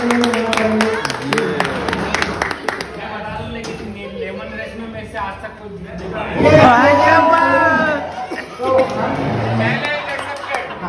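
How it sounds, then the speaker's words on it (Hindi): Audience at a hospital celebration for staff and doctors marking 1000 completed surgeries claps loudly, with bursts of applause mixed with crowd chatter and a voice speaking over it. "जोरदार तालियां बजाएंगे"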